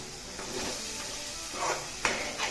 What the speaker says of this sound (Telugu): ఈ ఉప్పు వేసి ఈ విధంగా కలుపుతూ వేగనిద్దాం